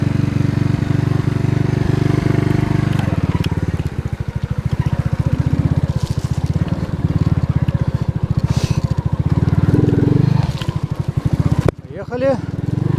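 An Alfa enduro moped engine revs and labors while riding out of a swamp in the woods, a loud close pulsing putter that rises and falls with throttle, mixed with splashing and scraping, before cutting out near the end.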